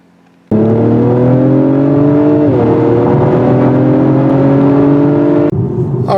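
A 2021 Acura TLX Type-S engine rises steadily as the car accelerates along a curving country road, a loud, continuous drone that climbs, dips briefly at a gear change, then climbs again and cuts off near the end.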